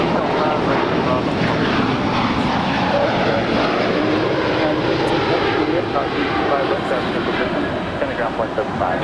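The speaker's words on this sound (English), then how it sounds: "Now departing is the Lufthansa A350-900, 4 years of age, delivered in July of 2017." A Lufthansa Airbus A350-900 departs Los Angeles International Airport with a loud, continuous jet roar that holds steady and broad throughout, heard from nearby.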